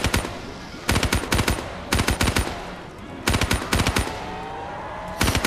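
Bursts of light machine gun fire in Call of Duty Black Ops 3 zombies mode, five rapid, loud volleys of sharp cracks separated by brief pauses, close and alone.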